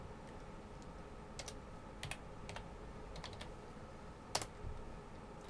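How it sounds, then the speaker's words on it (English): Sparse keystrokes on a computer keyboard while Linux terminal commands are entered, a few separate clicks and a louder final key press over a quiet room hiss, no voice. "I'm going to type in ls."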